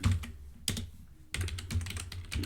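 Program code being typed on a computer keyboard, a steady run of close, crisp key clicks with a few louder bursts, heard alone with no talking.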